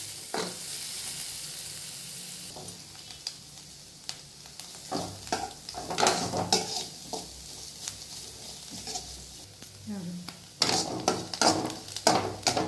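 Egg and paneer fried rice stir-fried on high flame, a loud continuous sizzle broken by repeated spatula scrapes and clanks against the pan, close and busy, with no voices.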